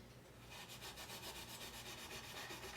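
Steady back-and-forth rubbing of steel wool along an acoustic guitar fretboard, light even strokes in a quick regular rhythm, close and fairly soft, with no voices.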